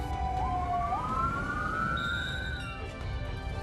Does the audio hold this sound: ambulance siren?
yes